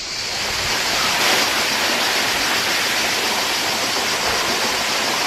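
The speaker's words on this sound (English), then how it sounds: "See the waterfall there." A waterfall at a site near a monastery in Greece, a loud, steady broadband rush of falling water that rises slightly at the start and then holds evenly, with no voices.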